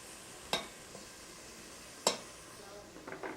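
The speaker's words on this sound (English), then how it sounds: "While that's sauteing" Onions and garlic sauté in a pan on low heat with a faint, steady sizzle, broken by two sharp clinks of a utensil against the pan and a few softer knocks.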